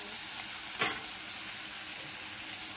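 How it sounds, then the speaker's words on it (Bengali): Potatoes frying in a pan with onion, garlic, ginger and garam masala, giving a steady soft sizzle with one brief sharp clink near the start. "যতক্ষণ আলুটা ভাজা হচ্ছে"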